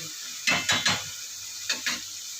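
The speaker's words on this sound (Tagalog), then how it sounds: "ilalagay ko na yung itlog guys" Beaten eggs poured into a pan of frying garlic, onion and tomato, with a steady sizzle underneath and several sharp clinks and scrapes of a utensil against the pan in two short clusters.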